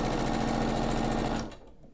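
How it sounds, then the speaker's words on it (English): A sewing machine stitches down a quilt block seam in a fast, steady mechanical whir that runs loud and close, then winds down and stops near the end. "All I do is just make sure that that's tucked under nicely, that seam, so I'm sewing down."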